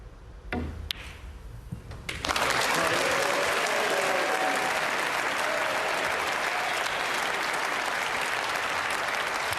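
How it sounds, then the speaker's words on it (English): A snooker crowd at a British Open semi-final breaks into sustained applause after a red is potted, rising suddenly from a quiet hall into dense, loud clapping that carries on steadily. "I'm sure this crowd will give him a good cheer if he can pot this red"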